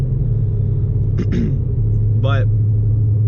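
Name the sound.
Ford Mustang engine pulling at around 3,500 RPM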